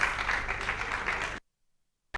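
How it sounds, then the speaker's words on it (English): Audience applause for conference speakers at a big-ideas platform event, a dense wash of clapping that stops abruptly, followed by a brief silence and a short return of sound. "a round of applause to our wonderful speakers, please"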